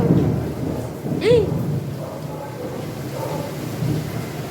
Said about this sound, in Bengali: বাইরে দেখো কি পরিমাণে বিদ্যুৎ চমকাচ্ছে আর বৃষ্টি হচ্ছে